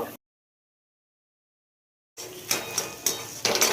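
After a near-silent start, a spoon clatters against a metal pan while mashed boiled potatoes are stirred, giving a few close, uneven knocks and scrapes.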